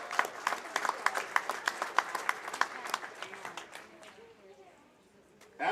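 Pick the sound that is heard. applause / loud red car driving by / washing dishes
applause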